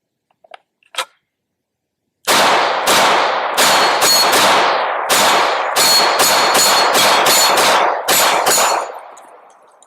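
An MX19 Elite pistol with an aluminum frame and a 3-pound trigger fires a magazine: about a dozen loud, sharp reports in quick, slightly uneven succession with short ringing decays, after a couple of faint clicks.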